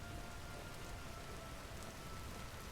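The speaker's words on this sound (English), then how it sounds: "take me back out here where it's raining" Steady rain falls in the video game Vintage Story, a soft continuous hiss of drops with no breaks and no voices, heard at a fairly low level throughout.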